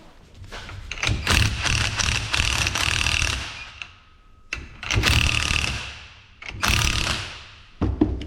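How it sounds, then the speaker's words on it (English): Tools work on a bolt on the front suspension of an Alfa Romeo 166, with bursts of metallic clicking, ratcheting and knocks separated by short pauses, close up and without talk. "So before I put tension on this, I like to loosen this bolt here, which in this case is a 60 millimeter."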